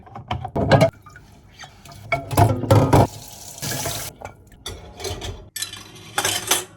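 Tap water runs in short bursts into a sink as dishes clink and scrape, stopping and starting irregularly.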